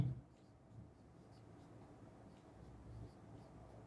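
Marker writing on a board during a physics lesson on Kirchhoff's rules, a soft continuous scratching and squeaking at close range with no talk.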